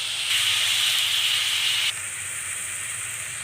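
Chopped Malabar spinach and potatoes hit a hot spice paste in a pan, giving a loud, steady sizzling hiss that drops abruptly to a softer sizzle partway through.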